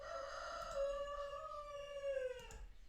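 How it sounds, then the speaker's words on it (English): A rooster crows among chickens, one drawn-out, wavering call that sounds somewhat distant and faint, with low background noise beneath. "Damn, these chickens"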